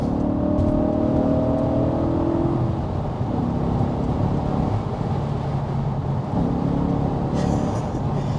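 A B7 Audi RS4 with the 4.2 V8 Quattro and a Stage 1 tune, accelerating hard in fourth gear in sport mode, heard from inside the cabin as a loud, rising engine drone that climbs steadily, with no talking.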